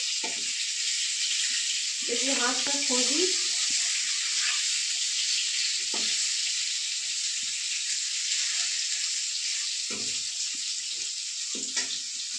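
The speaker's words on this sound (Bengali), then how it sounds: "ততক্ষণ মাছ ভাজা হতে থাকুক" Fish sizzles steadily in a frying pan throughout, a constant broadband hiss with a brief stirring clatter, while a person speaks briefly over it.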